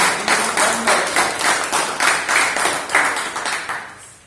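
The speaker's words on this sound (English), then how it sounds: "A Toastmaster meeting is incomplete without clap." Toastmasters meeting audience claps in unison, a loud, rhythmic series of about nine evenly spaced beats that fades out at the end.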